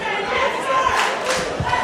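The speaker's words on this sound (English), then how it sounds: "The crowd getting behind Richie here." A wrestling crowd cheers and chatters throughout, a dense, steady roar of many voices with a few shouts rising above it.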